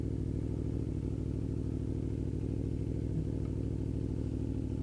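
A 2013 matte-finish motorcycle coasting in neutral with its engine idling, a steady low mechanical rumble and light clatter running evenly throughout without revving.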